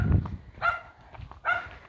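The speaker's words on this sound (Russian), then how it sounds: "вышла маленькая собачка и на меня гавкает" A small village dog barks at a passer-by on a rural lane in the Krasnograd district of Ukraine, giving two short, sharp bark bursts that stand out clearly over a quiet outdoor background.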